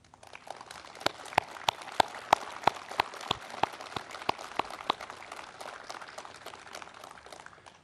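An audience claps at a national commemorative address for the 101st anniversary of the March 1st Independence Movement. The applause is steady and moderately distant, with sharp individual claps over a continuous wash.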